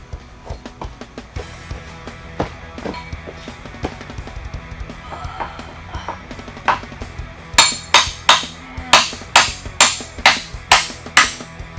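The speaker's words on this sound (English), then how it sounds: "we're going to take a hammer and this thing" Metallic hammer taps driving out the wheel axle of a Honda CBR600RR, light and scattered at first, then a steady series of sharp, ringing strikes close up, evenly spaced near the end.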